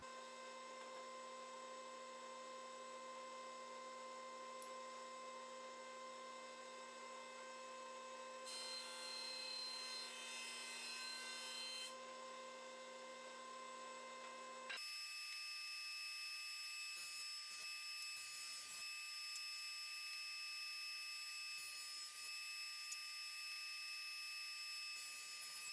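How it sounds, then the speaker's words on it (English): A jointer milling wooden legs for a Roubo workbench gives a steady high mechanical whine with a harsher cutting burst partway through, then the tone changes and a few light knocks sound near the end. "I got all the legs run through the jointer."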